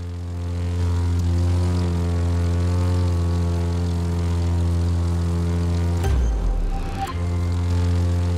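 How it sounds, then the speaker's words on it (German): A propeller airplane in the video game The Crew 2 drones loudly and steadily with a deep, even engine tone, then briefly shifts and sputters before settling again, with no talking. "Richte dein Flugzeug mit einem Flügel nach unten aus, dann schaffst du's."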